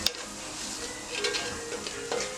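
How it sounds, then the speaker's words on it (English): Ingredients for chicken tetrazzini sauté in a pan over high heat, giving a steady close sizzle with faint stirring scrapes and no talk. "And then we're gonna saute these, turn your heat up"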